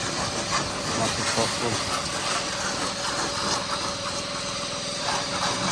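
A pressure washer blasts weeds off outdoors with a loud, continuous broadband hiss and spray that never lets up, while someone talks over it.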